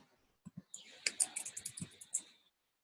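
Typing on a computer keyboard while following trading charts: a quick, uneven run of light clicks and key taps, close and fairly faint, in short bursts.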